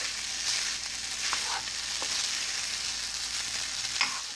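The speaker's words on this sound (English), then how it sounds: "I'm going to stir this around, make sure everything gets a little bit incorporated." Cooked rice frying in a pan for fried rice, stirred steadily: a continuous bright sizzle with soft scraping strokes of the utensil at intervals, close and moderately loud, no voices.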